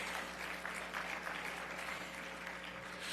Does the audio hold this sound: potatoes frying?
no